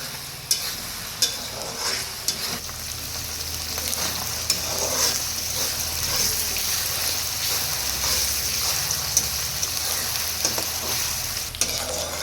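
Ground green chillies sautéing in oil over a low flame for crispy chilli thecha: a constant, close sizzle with spatula scrapes and light taps running throughout, no talking.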